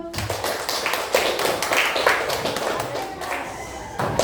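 A classroom audience claps for a student group in a steady, continuous round of applause made of many overlapping hand claps, with background voices mixed in.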